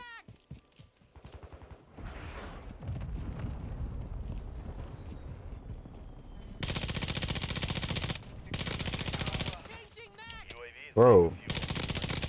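Bursts of ISO 45 submachine gun fire in a multiplayer shooter game, loud rapid automatic volleys in several separate strings, with quieter game ambience and a brief voice between them.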